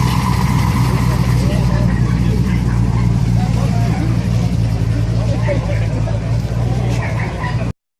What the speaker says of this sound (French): voir toutes ces vieilles voitures américaines qui font finalement la parade au port de Roskilde